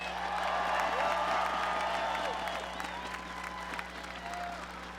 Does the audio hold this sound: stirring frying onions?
no